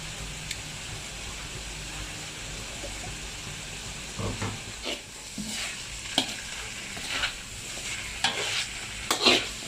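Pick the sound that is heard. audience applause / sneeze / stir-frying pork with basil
stir-frying pork with basil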